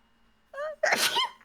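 A single close sneeze, preceded by a short high meow-like vocal sound, bursting loud and breathy near the mic before quickly trailing off.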